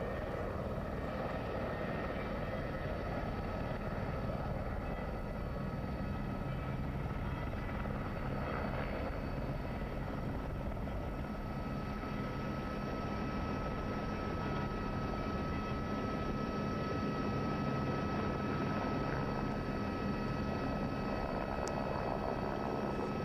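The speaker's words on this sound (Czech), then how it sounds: "motor helikoptéry, ale také zvuk zvonů." A helicopter engine drones steadily and continuously at moderate distance over Rome as Pope Benedict XVI departs the Vatican, an even whirring hum with no talking.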